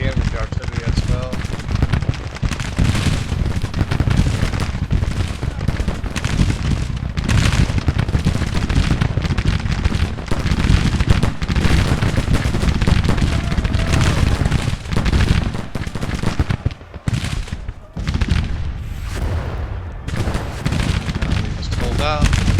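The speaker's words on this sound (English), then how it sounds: "Shoot this infantry here with the artillery as well." A Civil War video game battle with artillery and rifles firing on infantry: a dense, loud, continuous barrage of overlapping shots and booms that barely lets up, dipping briefly near the end.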